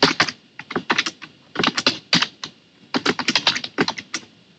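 Quick bursts of typing on a computer keyboard, close and crisp, with clustered keystrokes separated by short pauses and no talking.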